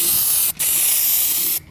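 A spray can of undercoating texture paint hisses loudly and continuously, with one brief break in the spray before a final stop.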